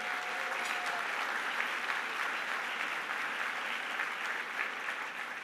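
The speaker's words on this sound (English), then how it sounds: "please give them a round of applause" Steady, dense applause from a large dinner gala audience at a 50th anniversary event, sustained and even throughout with no talk over it.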